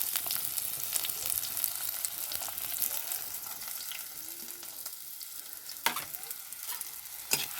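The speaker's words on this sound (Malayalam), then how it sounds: "കുറച്ച് എണ്ണ ഒഴിച്ച് കൊടുത്തിട്ട് അതിലേക്ക് ചെറുള്ളി കുറച്ചധികം എടുക്കണം കേട്ടോ. അതും ചേർത്ത് കൊടുക്കുക." Shallots frying in oil in a pan give a steady close sizzle with occasional sharp crackles and pops, carrying on alone without talk.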